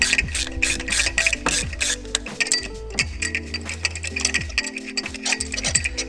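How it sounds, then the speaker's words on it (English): A ratchet pulling spark plugs from the engine of an EP3 Honda Civic Type R, rapid rhythmic clicking in quick bursts with short pauses, close and without talk. "So best thing to do is pull the plugs out."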